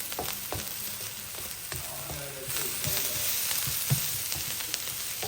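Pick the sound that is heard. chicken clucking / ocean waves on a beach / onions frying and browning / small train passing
onions frying and browning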